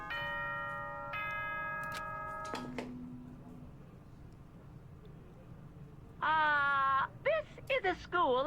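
The school announcement chime from the video game Danganronpa: Trigger Happy Havoc plays as a short series of clear descending bell tones. Someone then sings or hums the same melody in a wavering voice, imitating the chime over a faint background.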